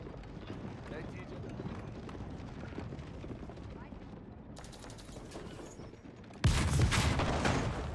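Gunfire rattles against a keep in an Age of Empires match between Holy Roman Empire and Ottoman armies: low rumbling volleys under commentator speech, then a loud, dense burst of shots for the last second and a half.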